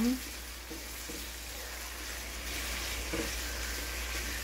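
Spam sizzling in a frying pan, a steady soft crackle and hiss with occasional light utensil taps and stirring sounds, fairly quiet and close, with a low electrical hum underneath.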